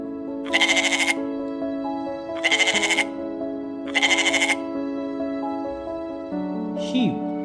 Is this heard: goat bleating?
yes